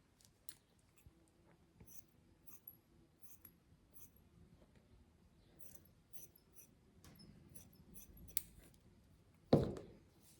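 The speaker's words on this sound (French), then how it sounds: "Je vais couper en deux. Oui, mon ciseau." Scissors cut paper for a mini album, making a series of soft, crisp snips at irregular intervals over a quiet background, with a louder rustle of paper near the end and no talk.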